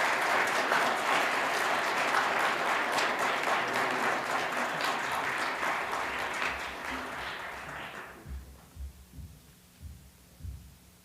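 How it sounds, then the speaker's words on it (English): An audience at a Scout troop court of honor claps in steady, sustained applause that gradually thins and fades out over several seconds, leaving a few scattered sounds in a quiet room. "If you could please give them a round of applause"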